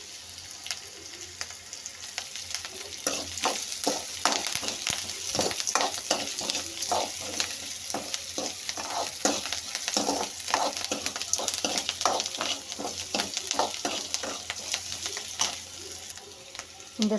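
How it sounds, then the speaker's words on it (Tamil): Onions, curry leaves and green chilies sizzle in a pan for aval upma, a steady crackling fry with repeated scraping stir strokes in the middle stretch, fairly loud and close, and no one speaks. "வெங்காயம் நல்லா பொன்னிறமாக வதங்கணும்"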